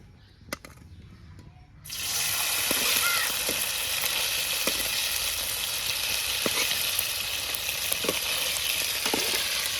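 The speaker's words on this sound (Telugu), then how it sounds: "ఇట్లా మంచిగా ఆయిల్లో చికెన్ పీసెస్ని మంచిగా ఫ్రై చేసుకోవాలి ఫ్రెండ్స్." Chicken pieces drop into hot oil for a chicken pickle, and a loud, steady, close sizzle bursts in after a few quiet handling sounds. It continues evenly with small pops throughout.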